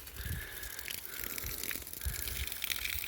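Faint, steady hiss and trickle of water flowing from a drip irrigation system in a field, soft and continuous with light irregular splashing.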